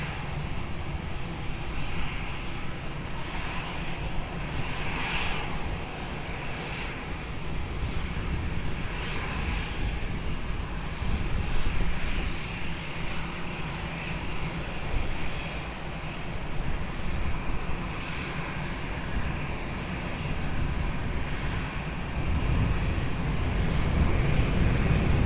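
An airplane takes off from runway 20 at Lisbon Airport. A continuous, broad jet-engine roar holds steady throughout, with some wind noise and no talk.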